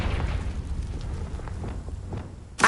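Fiery Confringo blast spell in Hogwarts Legacy on PS5, a sudden bright burst erupting near the end after a stretch of low rumbling game ambience.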